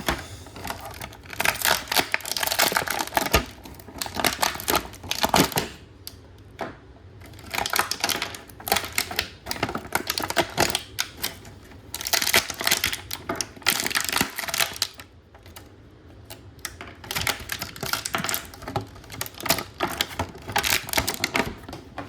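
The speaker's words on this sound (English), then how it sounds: "let's pop them open. All right, crinkling." Plastic packaging from a Panama City Beach shopping haul crinkles and crackles as specialty items are popped open, with dense, irregular rustling bursts close by that continue throughout.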